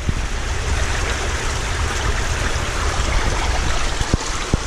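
A large volume of pond water, about 60,000 gallons an hour, rushes into a rubber-lined pond filter, a loud continuous roaring splash heard up close with no voices.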